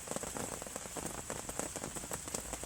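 Steady rain drums on a fishing brolly beneath trees, a dense close patter of drops with no break and no voices.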